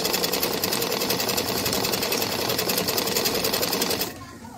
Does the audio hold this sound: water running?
no